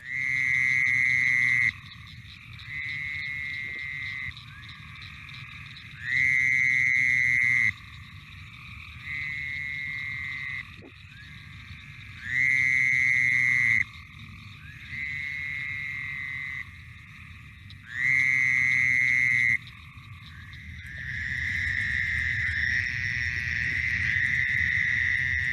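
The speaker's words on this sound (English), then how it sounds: "That is our Fowler's toad." Fowler's toad calls in a recording, loud nasal buzzing bursts of about two seconds each repeating at regular intervals, alternating with softer droning calls, then a continuous buzzing chorus at the end.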